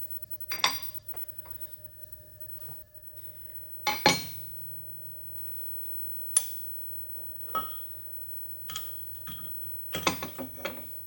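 Machinist's vise nipped onto a workpiece during a bearing bore repair: a handful of sharp metallic clicks, ratcheting clinks and taps, spaced apart against a quiet background with a faint machine hum.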